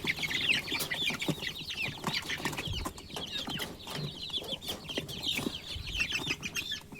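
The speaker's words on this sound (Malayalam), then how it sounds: "നല്ല തനി നാടൻ കോഴിക്കുട്ടികളാണ്" Month-old native country chicks cluck and cheep continuously, a busy chorus of short high calls close by with a few low thumps underneath.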